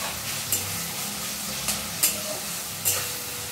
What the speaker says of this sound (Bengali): পেঁয়াজটা হালকা ভাজা হতে